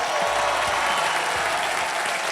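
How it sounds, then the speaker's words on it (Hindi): Loud, steady studio-audience applause fills a game-show set right after a contestant's big cash win, dense clapping sustained throughout with no talk. "जोरदार तालियां"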